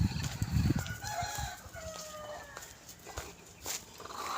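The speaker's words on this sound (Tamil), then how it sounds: "அங்கே இருக்குது கோழி." Chickens with chicks in an outdoor yard; a rooster crows nearby with a drawn-out call, mixed with scattered clucks and a brief low rumble at the start.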